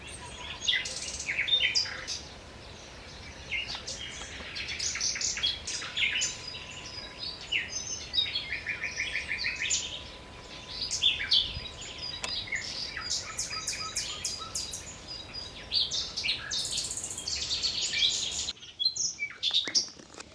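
Many birds chirp and trill continuously in the Aiguamolls de l'Empordà wetlands, overlapping bright calls against a quiet background, with a faint steady hum beneath.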